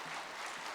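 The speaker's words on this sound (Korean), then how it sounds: "박수 한번 해주시기 바랍니다." Church congregation at a peace prayer meeting claps for the staff, a brief, soft, even patter of many hands with no voices over it.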